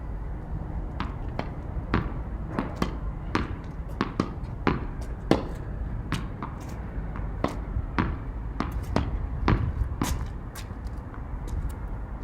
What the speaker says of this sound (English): I just do kind of a two-handed volley, or two-handed half volley where there's no backswing